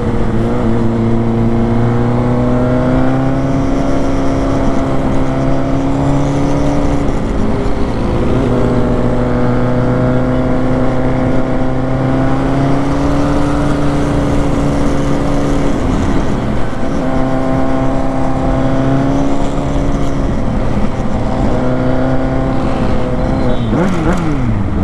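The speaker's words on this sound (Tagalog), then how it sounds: "test ride na natin itong CBR 600 na to" A Honda CBR 600 motorcycle engine drones steadily and loudly throughout a test ride, its pitch climbing and easing as the throttle changes, with a brief dip and a falling pitch near the end.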